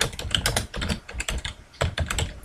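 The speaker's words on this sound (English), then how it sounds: "I'd like to type the title, Table of Content," Someone types a document title in Microsoft Word 2010 on a computer keyboard, a close run of quick key clicks in uneven bursts with brief pauses, fairly loud and with no talking.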